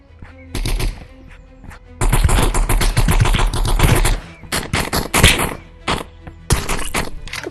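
Shotgun fire in the video game Animal Rivals: loud, blasting shots, one sustained burst of rapid fire and several separate heavy bangs spread across the stretch, over steady game background noise.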